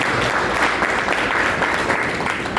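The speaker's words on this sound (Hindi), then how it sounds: "जोरदार तालियां एक बार" An audience at an IBC November celebration and training party in Raipur breaks into loud, dense clapping that fills the room throughout the brief burst.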